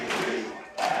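An esports crowd at a League of Lolcats-style grand final roars in two loud bursts of cheering and shouting, close and dense, with a brief dip between them.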